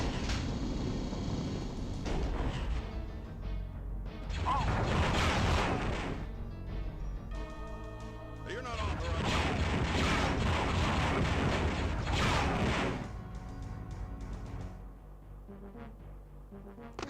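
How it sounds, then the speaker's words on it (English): Cannons fire in the Star Wars: Dark Forces remaster on PS5, giving loud, sustained booming blasts that come in long rolling clusters with brief lulls between them. "Because of those cannons"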